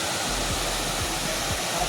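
Waterfall in Kottayam, a dense, constant roar of falling water, loud and close with no pauses.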